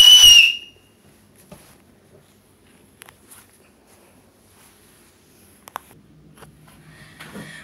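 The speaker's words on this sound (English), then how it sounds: "Today we're gonna learn how to make a whistle from a apricot" Whistle made from an apricot pit blown once, a short piercing shrill burst at the start, followed by quiet with scattered small clicks and handling sounds.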